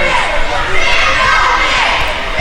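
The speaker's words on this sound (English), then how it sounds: "Listen to this crowd just chant "Fear the Beard." Echoing through the arena." A crowd at a wrestling show fills an echoing arena with a loud, dense roar of chanting voices, sustained steadily throughout the whole stretch.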